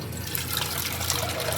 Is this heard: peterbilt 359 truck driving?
no